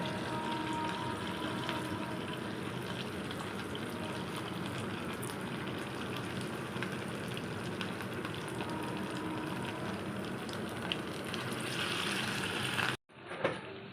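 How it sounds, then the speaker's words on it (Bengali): Mung dal fritters sizzle in hot oil in a home kitchen, a dense, steady frying crackle that holds close and even for most of the clip before cutting off abruptly near the end. "তেলটা আমার গরম হয়ে গেছে এবার আমি এটা এইভাবে ছেড়ে দেব"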